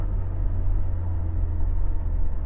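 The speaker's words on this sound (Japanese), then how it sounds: "ノーマルマフラーとは思えないぐらい、とてもレスポンスよく加速してくれます。" A Honda S2000 AP1 on its stock exhaust accelerates, heard as a continuous low engine rumble from inside the car, steady and fairly loud, with no voices.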